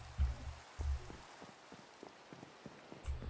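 Minecraft rain patters steadily in the background, with several soft low thumps mixed in.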